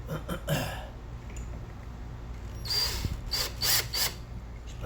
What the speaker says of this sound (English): I'm going to use the 1/4 inch drill to go down the center